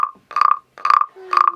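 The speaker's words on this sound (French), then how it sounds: "Il y a une grenouille." Three loud, close croaks from a frog ring out in a slow, evenly spaced sequence, each a short rattling burst with silence between.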